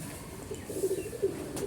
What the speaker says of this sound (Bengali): এখানে একজোড়া নতুন কবুতর আসছে